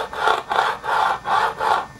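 Butta fingerboard wheels roll back and forth on a wooden surface, making five close, even swells of gritty rolling hiss in a steady rhythm. There is no talking.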